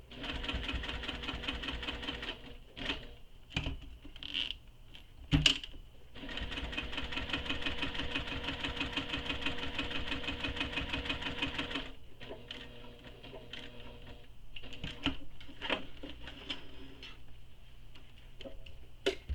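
A sewing machine runs through long continuous stretches of stitching on a convertible tote bag, with dense rapid needle ticking broken by short pauses and a few sharp clicks, close and steady with no talking.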